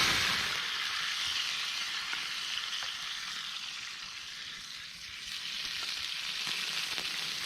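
Mushrooms and meat sizzle and fry steadily on a flame camping grill outdoors, a soft, continuous crackle with faint spatters and no voices.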